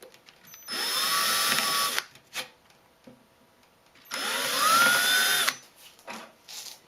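A cordless power drill drives short screws into OSB board to attach wheels. It gives two separate whirring bursts of about a second each, rising in pitch as it spins up, with quiet clicks and handling noises in between.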